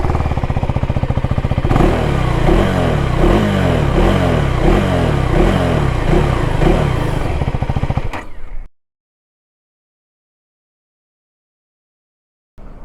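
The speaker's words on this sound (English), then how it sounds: "let's check the exhaust note" A Husqvarna Svartpilen 401 motorcycle, which has a 390 engine, idles loudly up close, then revs repeatedly in sharp pulsing bursts for several seconds before cutting out abruptly into silence, with a brief sound returning at the very end.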